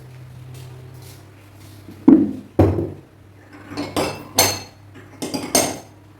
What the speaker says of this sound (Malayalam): അപ്പോൾ ഇത് കൊണ്ടുപോയി നമുക്ക് മൂടി വയ്ക്കാം